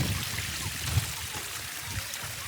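Clear water flowing on a hill station trek at Matheran, a steady soft trickling wash heard close and continuous.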